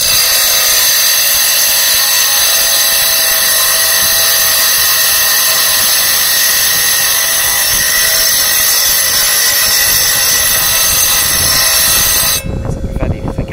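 Stone being cut with a saw, a loud continuous grinding screech with high harmonic tones holding steady for most of the clip, then suddenly changing to a rougher, lower rubbing noise at the end.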